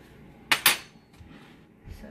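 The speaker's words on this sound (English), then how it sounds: "Let me go ahead and see if I'm going to spoon out" A metal spoon clinks twice in quick succession against a dish while spooning out reduced bourbon with the alcohol burned off, two sharp near taps followed by quiet room tone and a faint soft knock.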